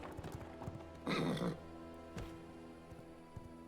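A horse in a video game lets out a loud, close whinny in one short burst while hoof clip-clops knock faintly underneath, set against a steady droning in-game background.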